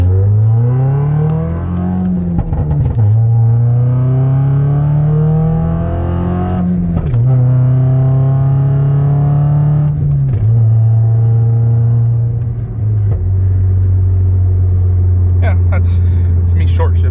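A Toyota Corolla E210 with a new rear motor mount accelerates hard out of a U-turn, its engine note climbing in pitch through repeated gear shifts, close and loud, with a steady interior rumble throughout.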